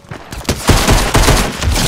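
Pistol fire in Fortnite, with a rapid series of loud, close shots cracking one after another in quick succession.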